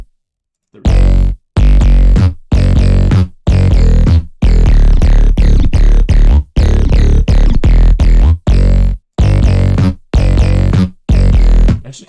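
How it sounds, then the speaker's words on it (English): A simple bass pattern played alone in music software, loud sustained notes in a steady repeating rhythm separated by short gaps, no talking. "I'm just gonna play the bass by itself so you guys can get an idea of what it sounds like."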